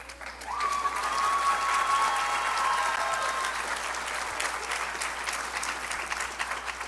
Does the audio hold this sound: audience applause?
yes